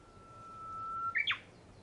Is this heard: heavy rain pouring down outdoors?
no